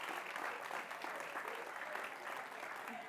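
Sustained audience applause at a charity gala fills the room, dense steady clapping from a large crowd with faint voices mixed in.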